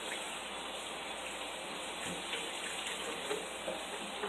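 Tap water runs steadily over raw ribs being rinsed at a sink, a continuous broadband splashing wash with no talking.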